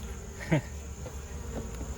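Honeybees at a weak hive being merged to build strength for winter make a faint, continuous buzzing hum, with one brief louder buzz as a bee passes close.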